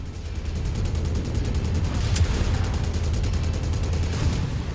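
Incoming missiles striking a mech in the video game MechWarrior 5, a steady rumbling roar of rapid impacts and blasts lasting several seconds, loud and close, with no voices.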